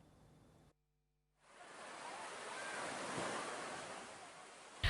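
Surf rolls onto the sand at Woong Rame beach in Serdang Bedagai, North Sumatra, a broad steady wash of breaking waves that swells and settles, heard alone after a brief silent gap near the start.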